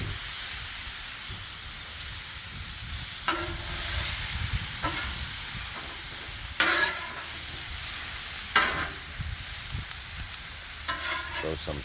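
Carrots cook on a Blackstone flat-top griddle, giving a steady sizzling hiss broken by a few louder scraping stirs of a spatula, close and without talk.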